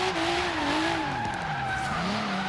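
Car drifting in Forza Horizon 3, played with a steering wheel: a sustained tire squeal that wavers in pitch as the car slides, steady and fairly close with no talking.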